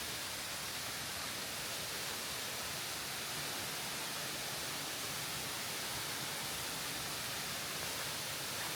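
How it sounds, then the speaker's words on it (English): Tall waterfalls in a natural setting at Pagudpud, heard as a continuous broadband rush of falling water that stays steady and even for the whole stretch. "Ooh, nice waterfalls."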